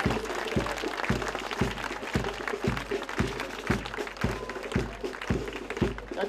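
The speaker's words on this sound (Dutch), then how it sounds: "geef ze even een applaus" Audience applause for a military drum band at a Soesterberg ceremony; steady crowd clapping over a regular, evenly spaced booming beat, like a bass drum marking time, with faint voices.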